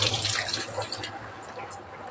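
Vegetables rinsed under running water at a sink, with splashing and trickling heard loudest at the start before settling into a softer, steady flow.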